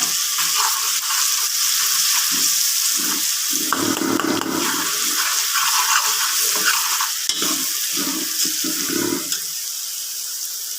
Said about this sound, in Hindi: अब हम इसमें लहसुन का पेस्ट शामिल करेंगे और इसको 1 से 2 मिनट के लिए